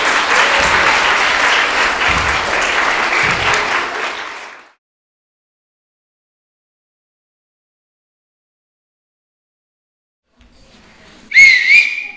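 Loud audience applause fills a theatre at a regional amateur drama groups' festival, dense steady clapping lasting several seconds before cutting to silence, then a brief burst of clapping and a whistle near the end.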